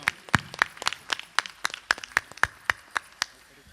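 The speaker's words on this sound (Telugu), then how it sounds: "మన మధ్యలో ఉన్న స్వామికి గట్టిగా చప్పట్లు కొడుతూ ప్రత్యేకమైన ధన్యవాదాలు తెలియజేస్తున్నాం" Church festival congregation clapping in thanks, a quick steady rhythm of sharp, close handclaps, about a dozen distinct strokes alone with little else beneath.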